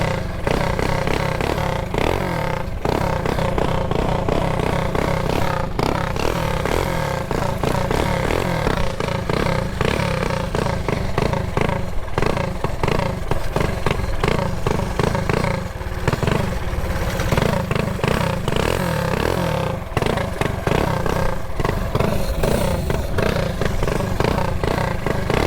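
A mini bike engine with a burnt clutch runs continuously and loudly close up, a steady buzzing drone with rattling, clattering undertones and no pauses.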